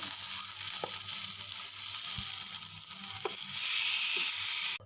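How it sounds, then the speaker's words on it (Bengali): Marinated bhola fish frying in oil on a tawa, with a continuous close sizzle that swells louder near the end, a few scattered utensil taps and scrapes over it, and no one speaking. "যে মাছটা আমি দিয়ে দেবো তাওয়ার মধ্যে"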